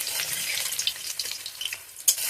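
Curry leaf pakoras fry in very hot oil in a pan, a close, continuous crackling sizzle with a few sharper pops and no voices.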